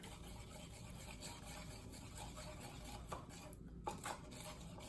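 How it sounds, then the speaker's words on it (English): Sauce of oyster sauce and sugar being stirred in a bowl with a utensil, a steady soft scraping and swishing with a couple of louder clinks near the end, all fairly faint and without talk. "So mix it, stir it until the sugar dissolves."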